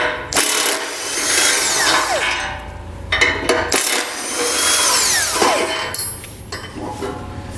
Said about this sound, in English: So you can take a 16mm socket and pull out these 2 bolts.